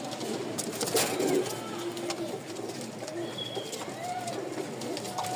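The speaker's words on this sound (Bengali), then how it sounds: "দেখেন নটটা ডাকতেছে" A male Rajshahi giribaz pigeon coos softly in a few low, rolling calls close by, against a steady background hiss and faint chirps.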